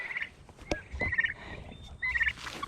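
Farmyard turkeys gobble in several short, moderately faint rattling bursts spread across the stretch, with soft background noise between calls.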